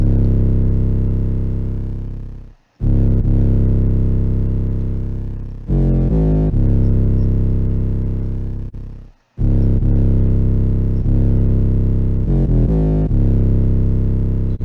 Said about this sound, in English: let's go ahead and listen to this 808